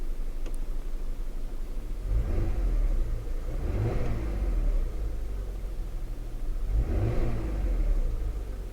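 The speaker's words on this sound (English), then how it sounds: "If you can hear the engine, otherwise it's clever a blip." A Peugeot 406 Coupe engine is blipped and revved several times, each rev rising and falling over a steady idle, close and moderately loud.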